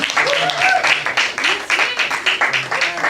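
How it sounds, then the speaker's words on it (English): Audience applause at an open mic night at The Brew House Gallery for a performer named Teddy: a steady wash of clapping from a small crowd, with a voice talking loudly over it. "All right, one more time for Teddy, everybody. Clap it up for him."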